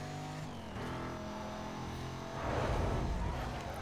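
Dense car traffic in Need for Speed Most Wanted, a steady layered engine drone of many vehicles that swells louder near the end as cars pass close.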